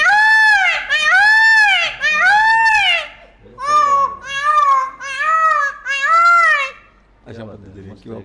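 A voice imitates a peacock call: a series of loud, wailing, high-pitched cries, three in a first burst and four more after a pause, each one rising and falling, close and clear.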